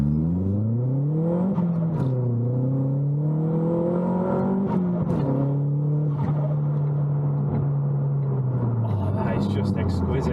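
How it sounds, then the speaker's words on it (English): Vauxhall Astra VXR engine fitted with a Turbosmart recirculation valve and upgraded fuel pump, loud steady drone rising and falling through gear changes, with a few sharp whooshing valve releases, heard from inside the car. "The noises this car makes now are unreal."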